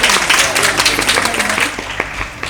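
Loud audience applause welcoming a guest onto the stage at an Eid show, dense clapping throughout with some crowd noise, fading slightly toward the end.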